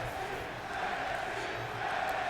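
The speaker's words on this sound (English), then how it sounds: "As you can hear this crowd going absolutely nuts for these women" A crowd in the WWE 2K20 wrestling video game roars and cheers continuously at an NXT women's match, a dense, fairly distant arena din with no single voice standing out.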